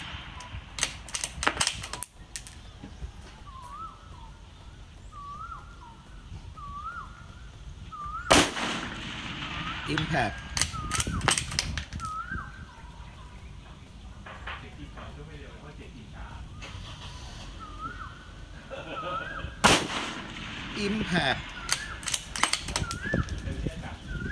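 Rifle gunshots at an outdoor shooting range, loud sharp reports spaced several seconds apart, heard near and standing out over background chatter and faint bird calls.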